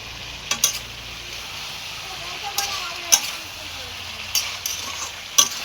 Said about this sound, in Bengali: দেখো আলুটাকে দিয়ে ভালো করে চিকেনটাকে কষে নিচ্ছি।